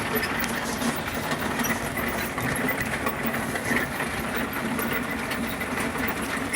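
A used rock tumbler with a glued-back broken spindle and a belt that slips runs in a steady, continuous churning rumble with a gritty rattle on top, loud and even throughout.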